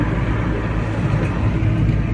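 An old Daewoo Lanos being driven, a steady low engine and road rumble heard from inside or close by, even and continuous with no talking.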